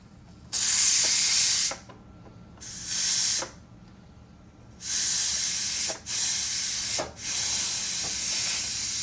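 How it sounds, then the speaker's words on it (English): A Power Pressure XL pressure cooker used for boiling eggs vents steam in loud, close hissing bursts, five separate blasts of a few seconds each with short quiet gaps between them. "now I'm just going to release the pressure"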